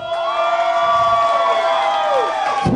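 A crowd cheers and whoops with clapping for a dance duo at a salsa night, loud and close, with shrill sustained whistles or shouts gliding over the roar.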